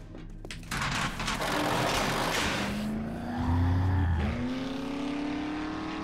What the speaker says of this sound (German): dann fahre ich mal gerade die Karre vor